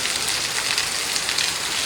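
Morning rain pours down in a steady, loud, close hiss of dense drops hitting surfaces, continuous and unbroken with no speech.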